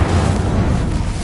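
Blasts from Confringo and Incendio spells in the Hogwarts Legacy video game, a loud, continuous rumbling roar of fiery explosions with dense low-end boom sustained throughout, no pauses.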